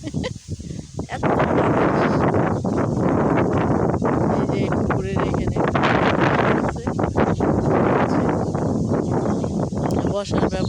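Strong wind buffets the microphone in a continuous roar beside a pond, with brief speech heard under the gusts.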